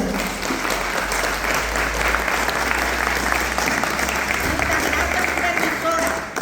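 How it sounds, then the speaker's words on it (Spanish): Steady, dense applause from a large crowd at a regional Ateneo de Lengua event in Ypakarai, welcoming an introduced speaker, loud and continuous throughout with a murmur of voices mixed in. "Un aplauso."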